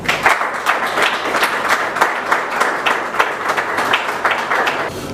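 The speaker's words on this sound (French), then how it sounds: "applaudissements." Audience applause at a nomination ceremony, many people clapping in a steady, fairly close burst with individual claps standing out, tapering near the end.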